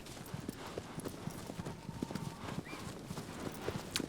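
A horse gallops in Shadow of the Colossus (2018), its hoofbeats a steady run of clip-clop thuds at moderate volume with faint background ambience.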